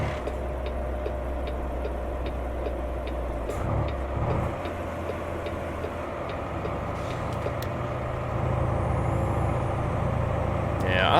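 A modded truck sound pack plays in an SCS truck simulator game, producing a steady, low diesel engine drone with faint rhythmic ticking running continuously at even loudness.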